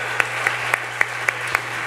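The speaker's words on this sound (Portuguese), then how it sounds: "Aplauda Ele mais uma vez." Sustained crowd applause, a dense wash of clapping with a few sharper claps standing out at a steady pace, over a low steady hum.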